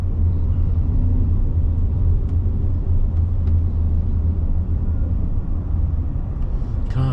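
A car drives through Phnom Penh traffic with motorbikes weaving around it, heard from inside as a loud, steady low engine and road rumble with faint occasional clicks.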